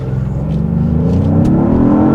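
A 2025 Genesis GV80 Prestige with the 3.5-litre twin-turbo engine in sport mode launching from a brake-boost start, its loud engine note rising steadily in pitch as it pulls away under full throttle from inside the cabin.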